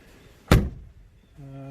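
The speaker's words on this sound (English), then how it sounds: "the doors seem to open and close without a drop" The door of a flood-damaged Alfa Romeo Series 1 Alfetta 1.8 sedan shuts with one solid, close thunk. A faint steady hum follows afterward.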